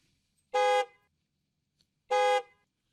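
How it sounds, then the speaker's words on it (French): Two short, bright simulated car horn honks in FL Studio, dry with no echo, evenly spaced in silence, each a clean buzzy toot lasting about a third of a second. "le klaxon de cette magnifique voiture"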